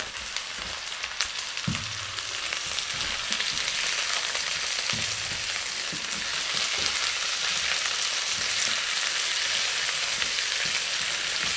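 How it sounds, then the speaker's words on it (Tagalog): Squid and calamari fry with sardines in a hot pan, giving a steady loud sizzle with occasional stirring knocks and bursts of crackle and no one talking. "Lagyan na natin ang squid or calamari."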